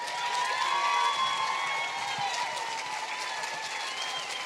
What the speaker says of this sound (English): should get a round of applause